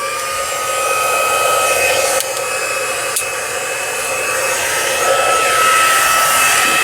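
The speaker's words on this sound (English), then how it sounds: "I'm just going to turn on my heat tool to heat set that." A heat tool blows a loud, steady hot-air roar while heat-setting embossing on a stenciled card, close up and continuous with no talk.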